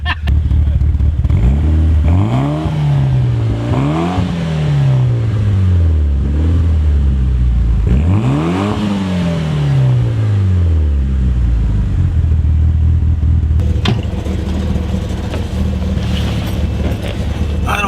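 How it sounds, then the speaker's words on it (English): A Mitsubishi Evo fitted with aggressive cams revs repeatedly after a cold start, several rising and falling throttle blips over a loud lumpy idle, close and harsh. "That is the sound of a really dope cold start."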